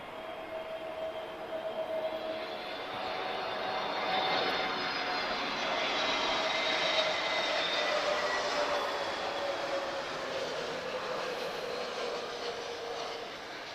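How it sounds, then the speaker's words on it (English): A Brazilian Air Force C-130 at Lisbon Airport gives a steady, loud turboprop drone that swells toward the middle and eases slightly, continuous with no voices over it. "first time I've ever seen a Brazilian Air Force C-130"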